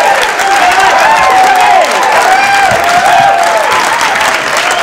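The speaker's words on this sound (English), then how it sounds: "Please, a nice round of applause for Kevin Meaney." Full crowd applause with some cheering from a comedy club audience welcoming a stand-up comedian in 1986, dense, loud and sustained throughout.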